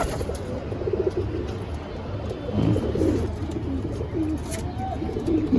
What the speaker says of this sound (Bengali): দোয়াস পায়রা কোয়ালিটি দেখ, অরিজিনাল দোয়াস পায়রা